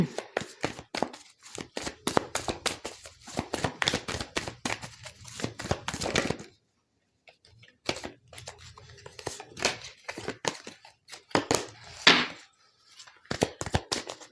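Tarot cards are shuffled and handled close up in quick bursts of crisp flicks, slaps and riffles. There is a short pause partway through before the handling picks up again.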